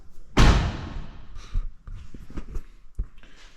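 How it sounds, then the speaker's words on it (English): The door of a 1983 Chevy S10 pickup fitted with an Isuzu 1.9 carbureted engine slams shut once, a close, loud metallic thud. Lighter knocks and handling noises follow. "Let me close this door here."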